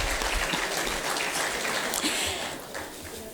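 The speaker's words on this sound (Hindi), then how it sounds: "उसके लिए आप लोग सब ताली बजाई" An audience at a gathering in Lucknow claps together, a dense, steady wash of applause that carries on for several seconds before easing off slightly, with no talking.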